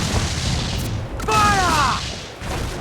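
Ship cannons firing in Assassin's Creed 4 Black Flag, loud booming blasts over dense battle rumble, with a shouted voice rising through the middle.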